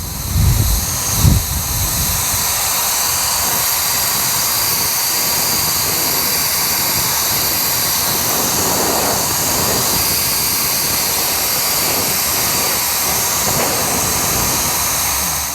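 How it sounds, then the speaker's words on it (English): A KiCA Jet Fan 2 blower runs steadily with a nozzle attached, giving a loud, continuous high-pitched jet-like whine and rushing airflow hiss that holds unbroken from start to finish. "Now attaching one of the nozzles, you'll definitely get more of a concentrated flow."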